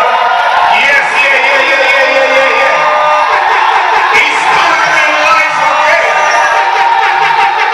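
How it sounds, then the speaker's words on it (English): A loud crowd at a church marriage vow renewal claps, cheers and whoops continuously, with a dense, close roar filling the room and voices mixed in. "We're gonna give a clap around."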